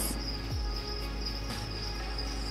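Crickets on an urban insect ranch fed on distillery barley and mashed cidery apples keep up a steady, high chirring drone. It is continuous and moderately quiet, with no voices.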